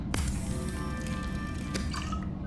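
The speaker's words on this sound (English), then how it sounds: "you can make some disinfected water" Crafting disinfected water in Subnautica gives a short burst of wet, squishy dripping and liquid sloshing with a light clink, set against a low game ambience hum.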